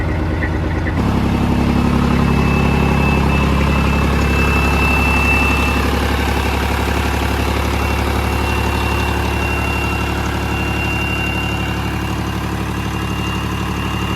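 A Peterbilt 379 junkyard truck's engine fires up after a brief moment and settles into a loud, steady diesel idle with a deep rumble and faint whine, running alone without talk.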